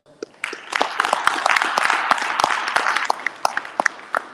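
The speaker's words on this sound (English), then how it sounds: "Give yourself a round of applause for that." Audience applause at a citywide men's meeting rises into a brisk round of clapping, with several sharp, close individual claps popping out above the crowd.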